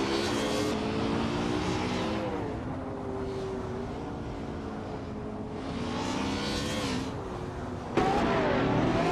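Race cars in a racing video game, including a 2008 Ariel Atom 500 and a 2019 McLaren Speedtail, with engines droning and revving continuously and shifting pitch as cars pass. The sound is moderately loud and there is no talk.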